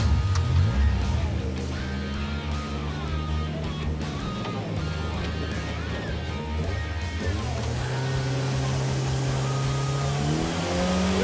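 A Nash Metropolitan pulls away and accelerates hard, its engine note climbing through the revs and shifting gears, loud and close with a steady rumbling drone throughout.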